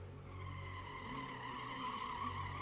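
A drift car slides through an understeering skid at a drift pit, its tires squealing in a long, steady, sustained screech under constant engine noise.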